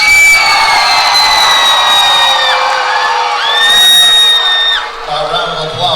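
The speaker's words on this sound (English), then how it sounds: "Ladies and gentlemen, a round of applause." A crowd at an MMA event cheers and whoops loudly and continuously, with a sustained roar of voices that fades slightly at the end.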